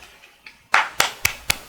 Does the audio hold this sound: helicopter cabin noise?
no